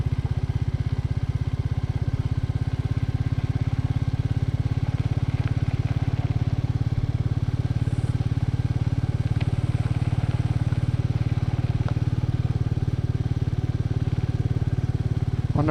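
A Royal Enfield Meteor 350 motorcycle chugs off-road in second gear, its single-cylinder engine thumping in a steady low rhythm, loud and close throughout, with faint clatter over rough ground and no voices.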